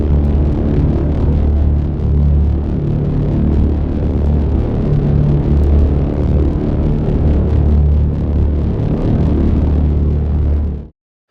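A synthesized drone recorded into Traveler's engine plays as a loud, continuous distorted low tone with a gritty, slightly wavering texture, holding steady for about eleven seconds before cutting off abruptly, with no voices.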